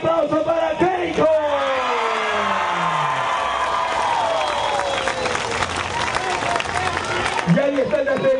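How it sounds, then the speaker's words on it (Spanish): A crowd at a political campaign rally in Pucallpa, Peru, shouts and applauds for a presidential candidate; loud cheering and clapping swell into a dense roar, mixed with voices over a public-address system and passing vehicle or horn tones. "Ahora sí, un grito final y un aplauso, cariño."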